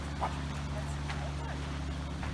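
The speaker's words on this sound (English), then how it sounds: "and we even have our dog, Snickers." A dog in a gondola cabin climbing a mountain gives a few faint whimpers and yips. A steady mechanical hum runs underneath, and people talk nearby.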